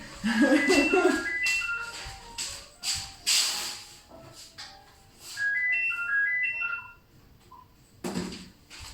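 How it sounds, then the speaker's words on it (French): A home telephone rings indoors in short repeated melodic bursts, a ringtone pattern that sounds twice with a gap between, mixed with some shuffling and handling noise in the room and a voice speaking nearby. "le téléphone sonne alors que vous êtes en direct"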